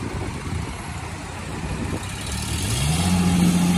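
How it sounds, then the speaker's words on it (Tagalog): Udon food truck engine at an outdoor market, starting as a steady mid-pitched rumble that swells into a louder rising rev as it pulls away, close by with no talking. "Malakas pa, malakas ang makina."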